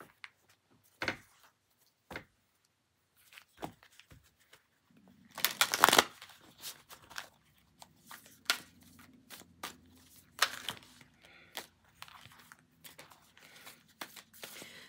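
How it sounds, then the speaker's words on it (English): Tarot-style cards shuffled by hand with long fingernails, giving irregular soft ticks and riffling clicks. A denser burst of shuffling sits in the middle, and the close, quiet sounds play alone with no talking. "when I'm shuffling with my nails, if it feels like a clumsy shuffle"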